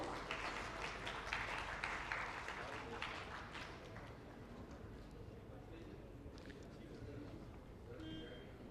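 Audience applause at a medical society conference evening, steady dense clapping that is strongest early on and then fades slightly as talk carries over it.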